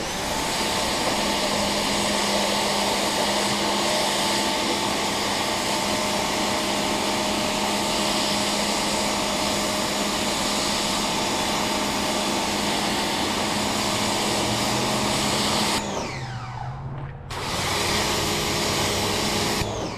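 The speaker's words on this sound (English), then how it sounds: "also helpful if you turn your pressure washer on" A pressure washer sprays a 2008 Toyota Matrix outdoors, a steady loud hiss and pump whine running throughout with a brief break in the spray near the end.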